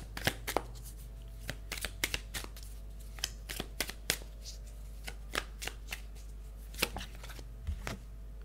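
Tarot cards being shuffled up close, a steady run of sharp riffling snaps and flicks repeating through the whole stretch with short pauses between, no talking.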